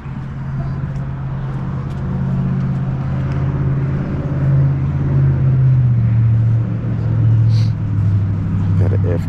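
A Toyota FJ Cruiser rolls past at an overland rigs-and-coffee meet, a steady low engine rumble that swells slightly as it nears, with people talking in the background.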